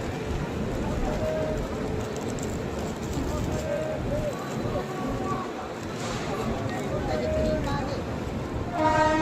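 The 12471 Swaraj Express passenger train rolls along the rails with a steady rumbling clatter, brief horn-like tones sounding at intervals, while people talk nearby inside the coach.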